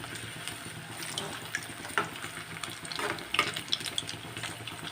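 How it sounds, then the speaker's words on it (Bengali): Coconut-filled Gokul pithe deep frying in hot oil over medium-high flame, a continuous close bubbling sizzle with scattered crackles and a few sharper pops, no talking. "এইভাবে ডিপ ফ্রাই করে নেব।"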